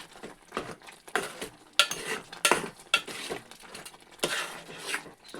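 Tomato gongura curry is stirred in a cooking pan, with a spoon scraping and clinking against the metal in irregular bursts over a soft background sizzle; no speech.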